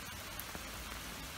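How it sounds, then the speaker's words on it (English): Soft, steady patter of rain falling outdoors around wildlife ponds in London, a faint continuous hiss with occasional small droplet taps, heard alone without voices. "It's a darn shame it's raining."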